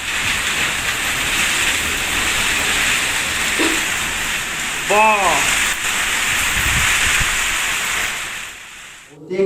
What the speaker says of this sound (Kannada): ಗಾಳಿ ಸಹಿತ ಮಳೆ ಆಗ್ತಾ ಇದೆ